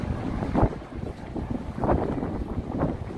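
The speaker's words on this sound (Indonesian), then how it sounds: "anginnya lumayan kencang juga ini" Strong wind buffets the microphone at a harbour beside a fishing boat, rough gusty roaring that swells and dips in waves over a low rumble, with no talking.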